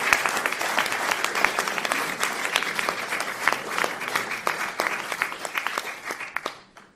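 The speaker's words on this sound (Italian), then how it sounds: "facciamogli un piccolo applauso." An audience at a memorial gathering in Pianezza gives warm applause, a crisp crackle of many hands that stays steady for several seconds, then thins out and fades to silence at the end.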